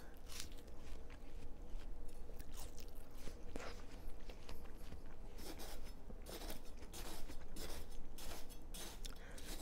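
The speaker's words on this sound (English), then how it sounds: "Sorry, I had to test the watermelon." Crunchy bites and wet chewing of raw watermelon, close to the mic and steady throughout, with irregular crisp crunches over a continuous low chomping.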